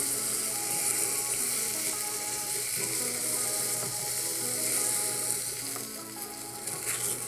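Lamb chops sear in a hot pan, a steady close sizzle with crackling spits running continuously throughout, no voices over it.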